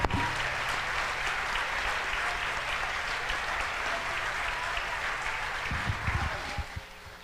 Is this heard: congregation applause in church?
yes